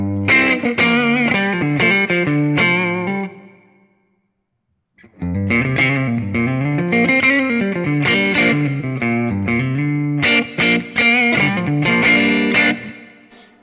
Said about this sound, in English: You might be wondering what sweetening does. It does this.